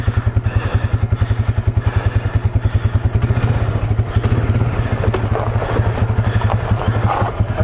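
Beta Xtrainer dirt bike engine running steadily on a trail at Hackett Gulch, a close, loud, fast pulsing exhaust beat with throttle held fairly even throughout.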